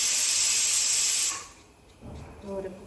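A kitchen pressure cooker lets off a loud, steady hiss of steam for over a second, then cuts off abruptly, leaving quieter room sounds and a faint voice.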